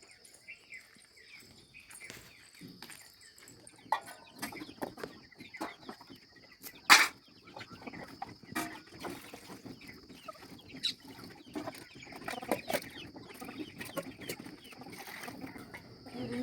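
Faint chicken clucking scattered over a soft outdoor farm garden background in a village, with insect chirring and occasional clicks and knocks, no talking.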